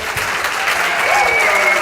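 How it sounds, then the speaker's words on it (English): Steady, dense clapping from a large crowd fills the whole stretch, loud and sustained without a break. "You guys are getting a standing applause."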